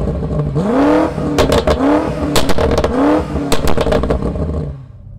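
A 2021 BMW M5 Competition in Sport Plus mode revs hard three times in quick succession. Each time its engine note sweeps upward, with crackling pops between rises, then fades out at the end.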